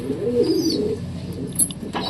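Pigeon cooing nearby in a short, soft, low throaty phrase, with light background noise and a faint chirp toward the end.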